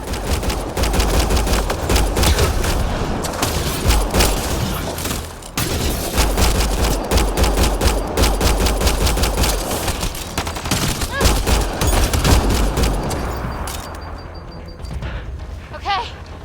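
Sustained, loud bursts of rapid gunfire in the sci-fi shooter Mass Effect Andromeda, dense overlapping shots with a brief break midway before the firing tapers off near the end.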